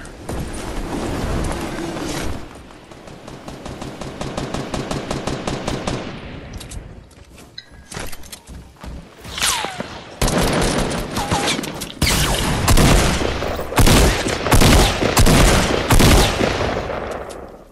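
Video game gunfire crackles in rapid bursts: a fast automatic volley first, then scattered single shots and dense, loud fusillades through the rest.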